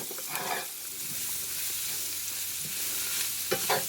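Vegetables, carrots among them, stirred with a spatula in a frying pan, a steady sizzle broken by a few scraping strokes, close and continuous, with no talking.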